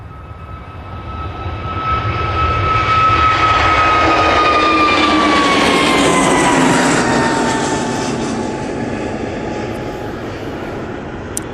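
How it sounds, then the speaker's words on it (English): An Airbus A321neo airliner takes off from Manchester Airport bound for Dalaman, its jet roar swelling to a loud peak and then slowly fading with a steady high engine whine, heard alone with no voices. "Using their A321neo for that flight."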